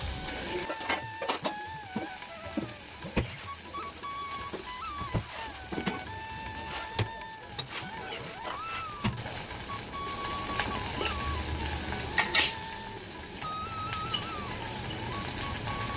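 Okra sautéing in oil with turmeric and salt, a faint steady sizzle with repeated scraping stirs and clinks of a utensil against the pan, no talk.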